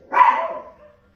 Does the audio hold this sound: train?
no